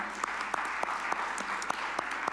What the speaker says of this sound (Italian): gli facciamo un applauso